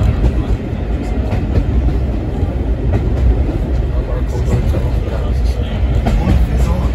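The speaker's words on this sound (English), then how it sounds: "I think this train might be going Epping bound." A steam gala train on the Epping and Ongar Railway, heading toward Epping, rumbles past close and loud in a steady, continuous roar with faint clattering from the wheels.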